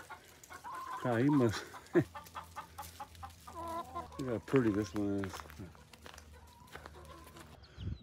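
Chickens clucking in a chicken yard, with a rooster's rhythmic calls and clucks rising and falling close by, while people talk over them.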